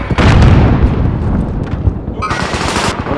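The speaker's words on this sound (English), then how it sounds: "Tossing a frag!" A frag grenade in an online shooter game goes off with a loud, close boom, followed by rapid gunfire bursts that continue to the end.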